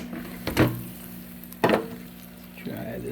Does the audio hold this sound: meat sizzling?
yes